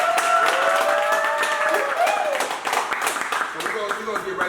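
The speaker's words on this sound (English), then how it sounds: "Everybody clap it up for Chinese Nicky." An audience claps for a guest on a talk show, the clapping under voices as someone speaks and cheers over it.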